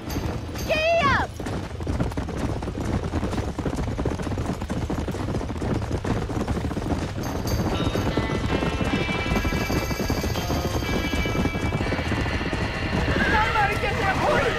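Horses in the Red Dead Redemption game gallop with rapid clip-clop hoofbeats and neigh sharply near the start, in a chaotic burning-barn scene with shouting voices and crackling background noise throughout.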